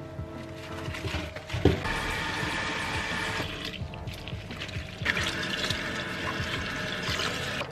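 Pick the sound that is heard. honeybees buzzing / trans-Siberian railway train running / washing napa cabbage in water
washing napa cabbage in water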